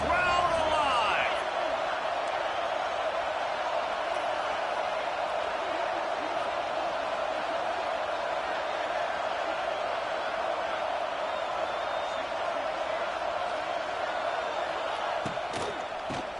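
Loud football stadium crowd cheering and roaring through a third-down red zone play in a college game with the Oregon Ducks, a steady dense wall of noise throughout with faint commentary underneath.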